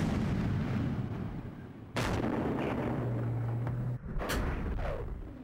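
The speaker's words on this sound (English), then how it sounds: "As the shell leaves the gun barrel, the sides drop away, leaving a rocket-shaped projectile" An army tank's main gun fires, with a sharp blast at about two seconds and another booming crack near four seconds over steady rumbling engine noise.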